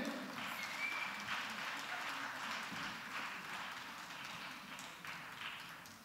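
An audience at a Tamil-language gathering applauds steadily, a dense even patter of clapping that runs throughout, moderately loud without pauses.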